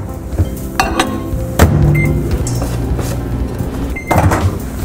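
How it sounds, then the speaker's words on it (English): A kitchen microwave oven door clicks and thumps, then the oven hums steadily while softening a whole cube of butter, with another click near the end. "So I'm gonna stick that in the microwave for about a minute or so."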